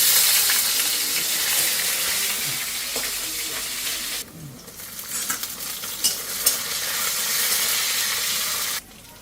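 Cumin and nigella seeds crackle in hot oil, a loud, dense sizzle that drops away abruptly midway, then returns with scattered pops and stirring before cutting off again.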